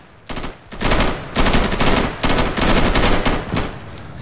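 Video game gunfire in a multiplayer match on a district map, with loud, close bursts of rapid automatic shots separated by short pauses.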